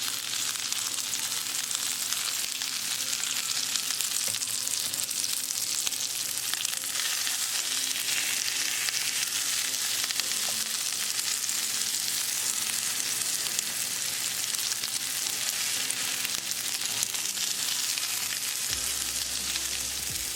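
Breaded rockfish pieces fry in a pan with a steady, dense sizzle that runs unbroken from start to finish, close and fairly loud, with no voices over it.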